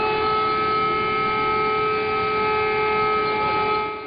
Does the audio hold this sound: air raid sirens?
yes